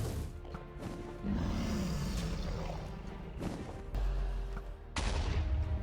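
Gunfire in a modded Minecraft game, a series of sharp shots and impacts with crashes, moderately loud against a busy game background.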